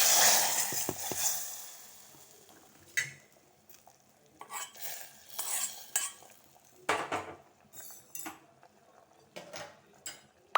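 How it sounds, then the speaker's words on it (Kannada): A spoon stirs mustard-seed tempering into a pot of drumstick rasam, with intermittent metallic scrapes and clinks against the pot and a brief burst of hot-oil sizzle at the start, then irregular stirring knocks. "ರಸಮಿಗೆ ಒಗ್ಗರಣೆಯನ್ನು ಸೇರಿಸ್ತೇನೆ"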